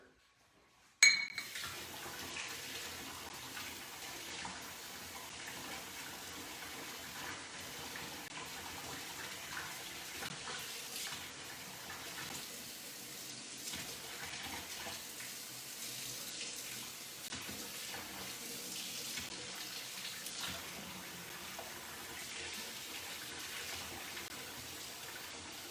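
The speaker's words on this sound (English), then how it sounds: "I'm going to get 1 cup of warm water in my small bowl here." Warm tap water runs steadily from a faucet into a small bowl in a home kitchen, a close, even stream starting with a sudden gush and continuing unbroken for over twenty seconds.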